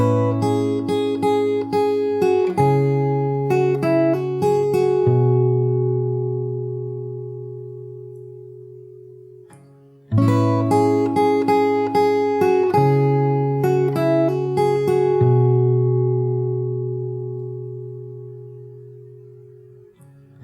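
Fingerstyle guitar plays the verse of a song, plucked notes over sustained bass tones, the phrase ringing out and then repeating once; clear, close and solo with no voice.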